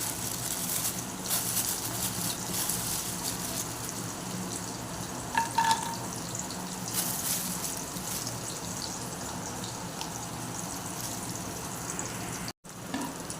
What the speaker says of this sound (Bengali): দিয়ে কাজু কিশমিশগুলো ভেজে তুলে রাখবো